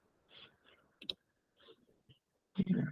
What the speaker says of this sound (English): We're clicking agree.